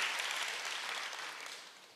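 A church congregation claps together in steady, dense applause that fills the room and slowly fades toward the end, with no talking over it.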